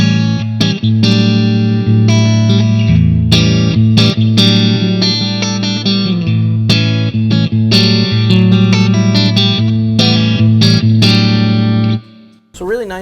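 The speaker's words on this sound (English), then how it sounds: "So this is just a spring reverb." An electric guitar through a Boss Katana 100W head plays chords and notes drenched in bouncy spring reverb, loud and close, ending with a brief pause and a last twang.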